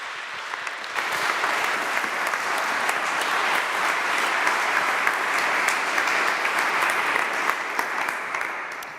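An audience applauds at a TEDx talk, a dense and even wash of clapping that swells in after a second and holds steady for several seconds before easing off, with no voices over it.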